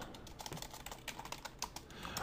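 Quiet, rapid clatter of keys on a computer keyboard as code is entered, an uneven run of light clicks close to the mic with no talking.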